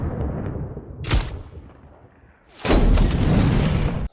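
A sharp burst of gunfire cracks out, then after a brief lull a louder, sustained volley of shots and booms rolls on, close and intense.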